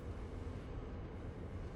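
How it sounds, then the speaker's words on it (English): Trains in the Satisfactory factory-building game pass each other, giving a low, steady rumble that stays faint and even throughout, with no talk over it. "They're just gonna drive past each other."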